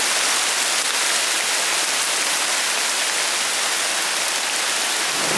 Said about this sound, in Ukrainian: Із дощу перейшло в град.